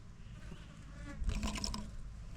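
Bees buzz softly among purple sage flowers in a garden, a faint close hum that swells briefly in the middle.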